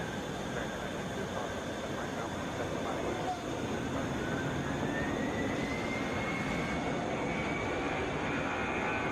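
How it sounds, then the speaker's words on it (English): Boeing 717 airliner at Atlanta Hartsfield airport, a distant steady jet engine roar with a slowly rising whine, faint and continuous throughout. "Flight 2344. It's a Boeing 717."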